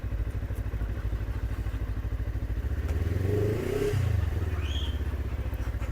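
A Taro GP400 motorcycle with a 400 cc engine idles with a steady, throbbing pulse, then revs up briefly and settles back to idle. It sounds close and fairly loud, with no voices.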